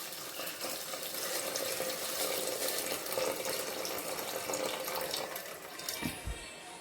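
Tamarind water poured into a pot of pepper rasam, a steady splashing pour lasting several seconds before tapering off, close and alone.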